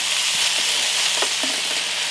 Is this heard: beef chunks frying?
yes